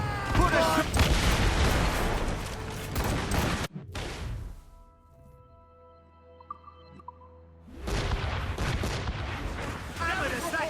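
Naval cannon fire in Assassin's Creed Rogue during a ship battle, heavy booming volleys and chaotic crashing at sea, a quiet lull with a faint tonal hum, then another barrage of blasts, shouted voices mixed in.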